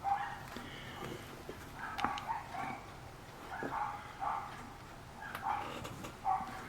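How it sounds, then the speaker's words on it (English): Small dog barking and whimpering somewhere nearby, a series of short yips and whines spread through the scene, moderately loud and without speech. "Somebody's little dog is upset about something."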